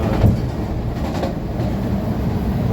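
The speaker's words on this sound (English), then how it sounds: "It's the Midway train, the orange line." Chicago CTA Orange Line Midway train passing nearby, a steady loud rumble with faint wheel clatter that fills the whole stretch alone, with no talking.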